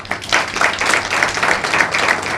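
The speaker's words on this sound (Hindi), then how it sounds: "फिर उन्होंने ताली बजाई" Steady applause from a group clapping hands, continuous and fairly loud for a couple of seconds with no other sounds.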